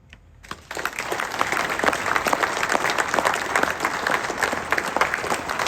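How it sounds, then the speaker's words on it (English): A conference audience breaks into a big round of applause that starts suddenly and holds steady as a dense, close wash of clapping, with no voices over it. "she got a huge round of applause, and here it is"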